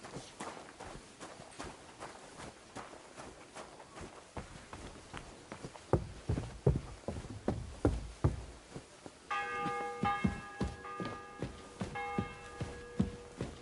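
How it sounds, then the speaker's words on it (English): A church bell tolls before an execution, striking clear sustained rings late in the stretch after a run of steady hoof-like knocks and footsteps on a hard surface. "The 11th toll of the bell."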